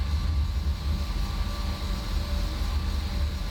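Jet engines of an Embraer 190/195 airliner run in a flight simulator game: a steady, loud low rumble with a broad constant hiss, continuous and unchanging throughout, no talking.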